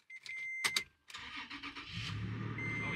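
A project car bought from Copart cranks briefly and fires up, settling into a steady idle; near and clear with no talking.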